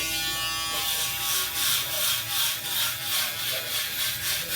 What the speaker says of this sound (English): We'll do the Rebel. Very inexpensive shaver.